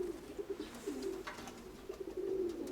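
Pigeons in a pigeon loft coo softly and repeatedly, low and rolling, with faint rustling in the background and no one speaking.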